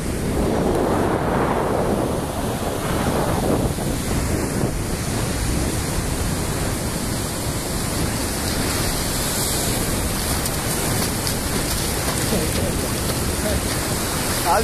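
Strong ocean waves break at Paiva beach near Recife as a continuous, loud roar of surf, mixed with wind buffeting the microphone and no one speaking.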